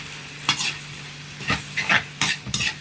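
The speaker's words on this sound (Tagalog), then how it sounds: "Haluhaluin lang natin kasi dumidikit." Sautéed food sticking to the pan is stirred in a few sharp scraping strokes over a low sizzle.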